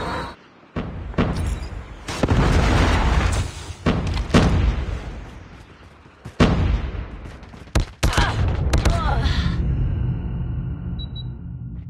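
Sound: predator missile explosions in the video game Call of Duty

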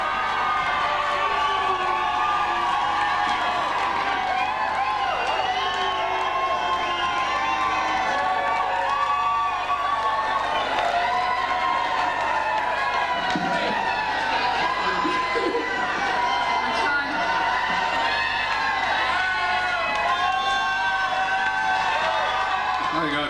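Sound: crowd applauding and cheering at a festival

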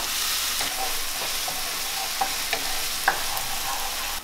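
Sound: chili and garlic frying in a pan

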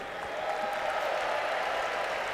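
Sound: Eurovision arena crowd applauding

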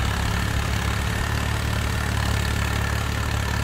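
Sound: tractor engines running in Farming Simulator 22 video game

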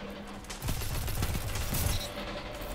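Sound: sniper rifle shots in video game Destiny 2

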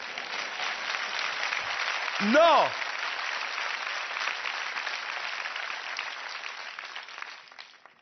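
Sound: studio audience applause

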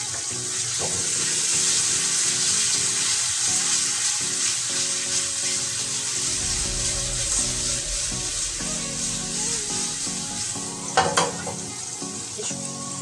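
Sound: soy sauce and sake sizzling on frying bonito blood meat in pan

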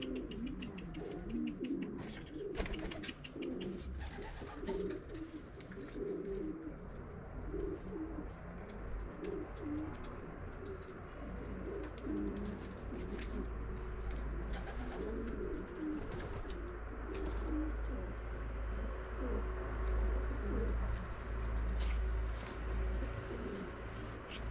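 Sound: racing pigeons cooing

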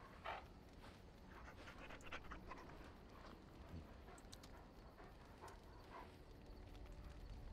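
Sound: dog panting and barking in Dragon Age Origins video game

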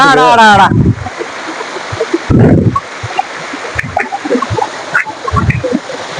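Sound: waterfall pouring water

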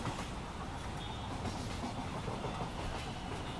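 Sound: Virar–Andheri local train on Mumbai Central Railway

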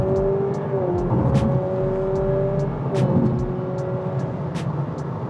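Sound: artificial engine sound in Honda Civic RS e:HEV accelerating

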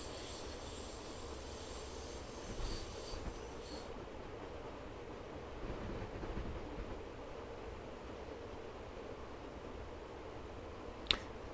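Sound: train running uphill in Train Simulator 2018 video game

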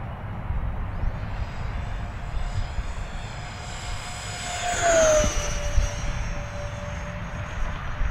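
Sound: E-flite A-10 Thunderbolt II twin 64mm EDF RC jet flying

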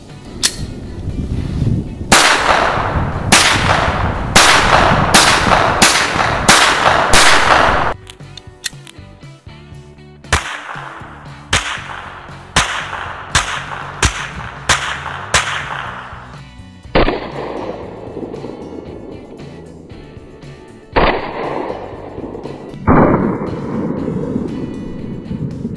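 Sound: shots fired from a PM-SKh Makarov signal pistol

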